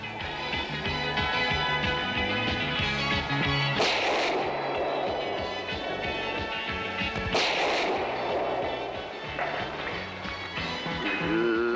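Two sharp, loud gunshots ring out a few seconds apart in a 1989 Mexican action film, sounding over a busy, continuous soundtrack of music and effects.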